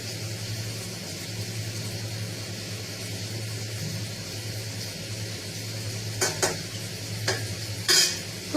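Chhena (fresh cheese) curry frying in a pan for a vegetarian dish, a low steady sizzle over a constant background hum, with a few short stirring scrapes near the end.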